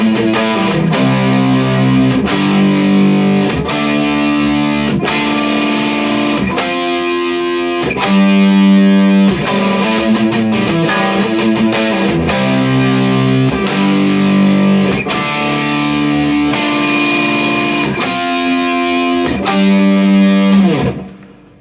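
Distorted electric guitar plays the chorus riff, loud and steady with repeated chugging power-chord phrases and no voices.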